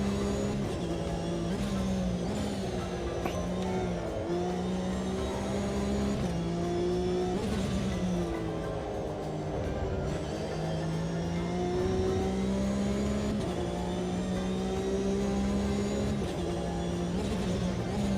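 Race car engine in a sim racing game droning steadily and loudly throughout, rising and falling in pitch as it revs and shifts while the driver weaves to warm the tyres, with no talk.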